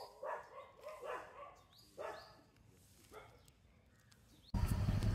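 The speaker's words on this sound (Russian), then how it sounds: "Тут есть собака" A dog barks several times at a distance, with sharp irregular yelps spread over a few seconds against a quiet outdoor background, and a sudden loud rumble cuts in at the end.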